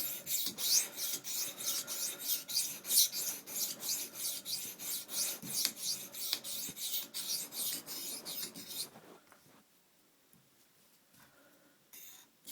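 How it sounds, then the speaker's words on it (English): A knife is sharpened freehand on a coarse stone, with rapid, regular rasping strokes close up for about nine seconds, then it stops and only faint scrapes remain. "I'm just going to try to hustle and get this coarse stone done."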